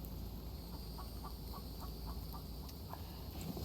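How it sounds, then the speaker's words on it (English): Chicken clucking in The Infected survival game: a faint, evenly spaced run of short clucks over a constant ambient hum, with no voices. "I am going to have to go and get that chicken. I can hear it clucking."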